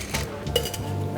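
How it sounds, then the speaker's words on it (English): Ice cubes drop into a cocktail shaker over fresh lime juice, giving a few sharp clinks and clatters close by with a faint hum behind. "Add some ice."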